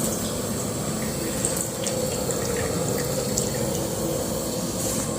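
Mustard oil poured into a hot kadai, a steady close rush and hiss like a running stream that continues evenly without pause or talk.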